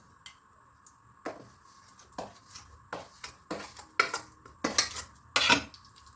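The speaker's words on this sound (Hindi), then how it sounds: "अब इसमें ये जो उड़द का आटा, उड़द के मोगर का आटा बनाया था वो, और ये मूंग का मोगर का जो है वो इसमें सेक लेती हूँ" Urad and moong flour roasting in a pan, stirred with a metal spoon, produces regular, close scraping and clinking strokes about once a second that grow slightly louder over time, with a faint sizzle beneath.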